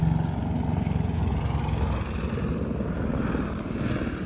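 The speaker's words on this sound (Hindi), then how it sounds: "देखिए, हेलीकॉप्टर हमारे नीचे से जा रहा है जाता हुआ।" A helicopter passes far below in the mountains near the Amarnath cave route, a steady low broadband rotor and engine drone holding at an even level without talk.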